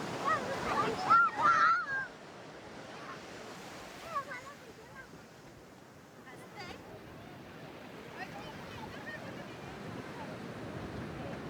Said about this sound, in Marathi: समुद्र भरपूर खवळलेला दिसतोय